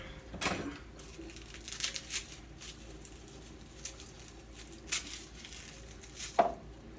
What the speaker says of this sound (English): Use your knife to get the cloves out.